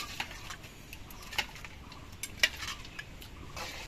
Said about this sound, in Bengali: এবার ঘি আর গরম মশলা দিয়ে ডালটা আমি মিশিয়ে নিচ্ছি